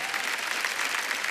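Dense audience applause at a Hindi stand-up comedy show, steady and continuous throughout the short stretch, many hands clapping together at an even level with no voices rising above it.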